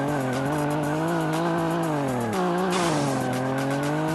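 A Chevette in a video game drifts, its engine droning steadily while tires squeal in long sustained tones that shift pitch midway, loud and continuous with no voices.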